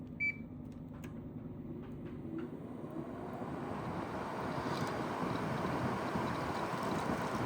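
Fan of a 2009 GE window air conditioner, model AEW05LMS2, starting up to a low steady whooshing rush that builds gradually and holds, fairly faint, with a few light clicks at the start.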